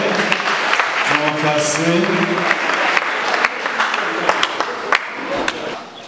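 Audience applause at a church gathering in Rwanda, sustained clapping from a crowd that runs nearly the whole time, with a voice speaking over it and a fade at the end.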